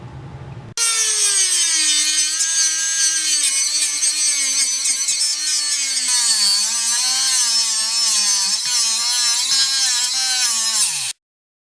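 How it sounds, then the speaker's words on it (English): Dremel rotary tool grinding out steel pop rivets on motorcycle exhaust parts, a loud, close high-pitched whine that starts abruptly, wavers in pitch under load for about ten seconds, then cuts off. "every time I use that Dremel tool, I think, what a great little tool and how inexpensive it is."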